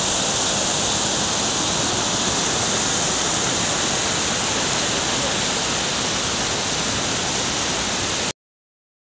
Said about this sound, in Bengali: অপূর্ব ঝর্ণা